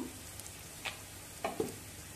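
Ginger paste and turmeric fry in oil for a rohu fish curry, a faint, low hiss with a few quiet crackles and pops.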